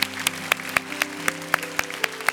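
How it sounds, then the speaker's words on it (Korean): Church congregation at a Sunday youth service clapping together in a steady, evenly spaced rhythm, each sharp clap standing out over a sustained musical tone in the background. "오늘 새로 오신 분들 진심으로 축복하며 다시 한번 박수 드리도록 하겠습니다"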